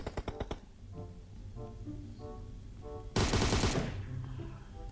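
Rapid automatic gunfire from a PUBG Mobile death match: quick bursts of shots open the clip, followed by a loud, dense volley later, with steady game noise underneath.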